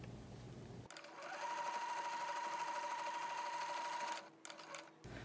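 A sewing machine stitches along the edge of a piece of fabric, a close, steady motor whir with a thin whine lasting about three seconds. It then stops with a few short clicks and a brief final burst.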